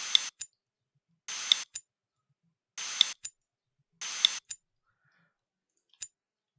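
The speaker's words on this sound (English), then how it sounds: "And beep, beep, beep, beep," Electronic beeping in short bursts: four steady beeps spaced about a second or more apart, each followed by a quick click, then a final lone click; otherwise silent.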